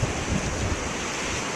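Big ocean waves at a beach roar in a continuous loud wash of surf with wind buffeting the microphone, with no voices.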